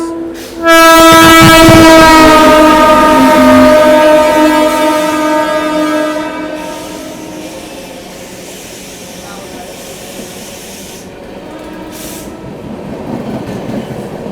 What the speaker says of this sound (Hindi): सुबह के 5:56 पे स्किप कर रही है फिरोज़ाबाद को और ओवरटेक कर रही है हमारी अमृत भारत को।